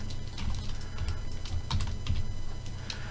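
Typing on a computer keyboard while entering a math answer, with quick bursts of close key clicks at an uneven pace over a low steady hum, without talk.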